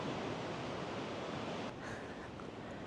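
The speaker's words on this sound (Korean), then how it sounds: "여긴 그래도 파도가 잔잔하네요." Calm sea waves wash steadily near Hajodae on the rocky Yangyang coast, a constant soft broadband rush with wind, fairly faint and uninterrupted, no voices.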